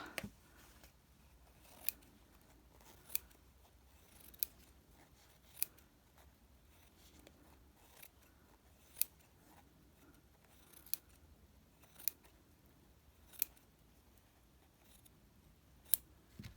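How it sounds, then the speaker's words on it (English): Quiet, regular snips of scissors cutting fabric, one crisp cut roughly every second, with near silence between. "get your fabric scissors and just trim around"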